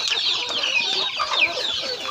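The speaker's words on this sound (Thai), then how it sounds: "เดี๋ยวพาไปเบิ้งไก่ไข่กันเลยครับพี่น้อง" Laying hens cluck and squawk on a farm, a dense, continuous flock chatter with sharp individual calls rising over it throughout, close by and without any talking.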